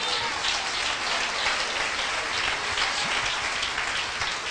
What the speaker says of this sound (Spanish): Hermano, por favor, denle un aplauso al Señor.